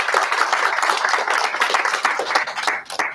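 Audience applause at a fire investigation conference, dense steady clapping from a crowd that thins out toward the end.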